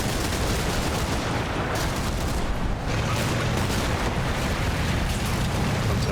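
A tank turret shell hit in the Combat Mission: Battle for Normandy war game, a dense, loud burst of explosive rumble and crackling gunfire that fills the whole stretch without pause.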